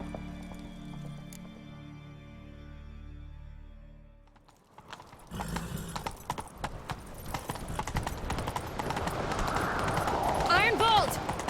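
Rapid hoofbeats of a galloping horse in The Witcher 3, steady and close, with clattering and a whinny near the end, after a quieter musical opening.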